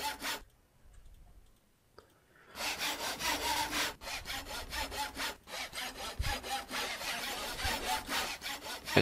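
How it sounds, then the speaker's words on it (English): Repeated rasping, sawing-like strokes of a pickaxe chipping through cobblestone in the Minecraft Feed The Beast modpack, a steady rhythmic series of loud scrapes after a brief quiet start. "it's the sawing of the pickaxe on the thing"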